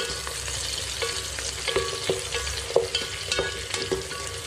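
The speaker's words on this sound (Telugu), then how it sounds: "బాగా కలపండి. ఉల్లిపాయలు, టమాటా ఇవన్నీ బాగా వేసుకోవాలి." Onions and tomatoes frying in a pan for chicken biryani, stirred with a steady sizzle and a run of sharp scraping strokes against the pan, close and alone with no talking.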